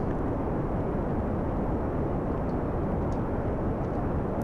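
A plane engine roars in Kerbal Space Program during a fast climb, a loud and steady drone that fills the whole stretch without a break.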